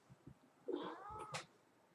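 A heavy male house cat lets out one drawn-out, unhappy meow, a wavering caterwaul lasting under a second and close to the mic, with faint soft thumps of handling around it.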